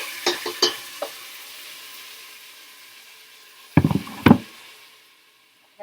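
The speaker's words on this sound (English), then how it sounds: "melted about 3 or 4 tablespoons of ghee in the pan so you can see it's well coated. I'm going to go ahead and add my blended aromatics" Blended aromatics hit melted ghee in a pot, bringing a few metal spoon knocks, then a soft low sizzle and two loud scraping stirs before it fades almost to silence.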